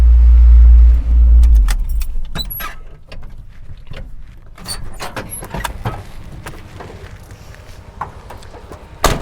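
A Rock Bouncer truck rumbles loudly at first, then its engine fades under a run of metallic keys jangling and rattling close by, with faint clicks and shuffles.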